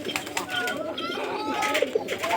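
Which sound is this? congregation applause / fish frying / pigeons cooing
pigeons cooing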